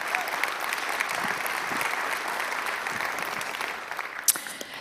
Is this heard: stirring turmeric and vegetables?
no